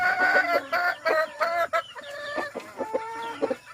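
A bulik rooster, a gamefowl breed kept for breeding, gives repeated loud close clucks and crowing calls in quick uneven bursts, with no talking.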